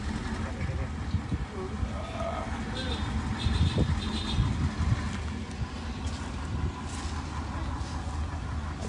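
A Zoomlion sugar cane harvester's engine runs steadily through the whole stretch as a broad, continuous low rumble, with faint talk and some clatter from the work over it.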